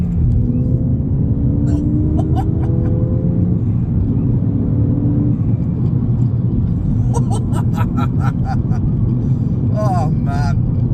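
A Ford Fiesta ST turbo engine drones and rumbles steadily from inside the cabin while accelerating, with rising whine and intermittent chatter from people talking over it.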